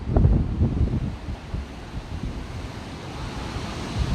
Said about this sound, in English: Because it's high tide and we've got some bigger waves